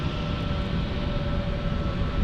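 A JetBlue Airbus A319 airliner from Boston passes by with a loud, steady jet roar and broadband rumble that fills the whole stretch without fading.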